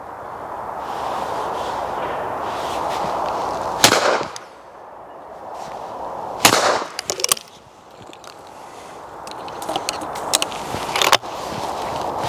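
Shotgun firing at clay targets with a recoil reducer fitted on an outdoor range: about three loud, sharp blasts spaced several seconds apart, each with a short ringing tail, over steady wind and background hiss.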